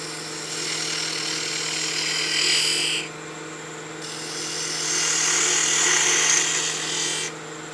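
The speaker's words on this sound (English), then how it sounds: "I'll contact bevel first, then I'll raise the handle slightly till I start getting shavings off the tool" A spindle gouge cuts into spinning wood on a wood lathe, giving a steady close scraping hiss over a low motor hum, with a brief duller stretch midway before the cut bites again.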